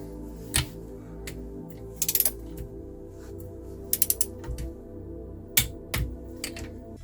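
Ratchet clicking in short bursts as cylinder head bolts are tightened on a Reliant PT7 engine from a Regal Supervan 3, with several separate runs of rapid clicks against a quiet workshop background.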